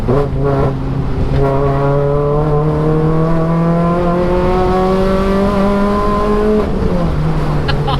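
Up close, a Renault Clio rally car's engine screams as it revs steadily toward the top of its rev range, with the pitch rising for several seconds before it drops off at the shift. The engine is loud and continuous.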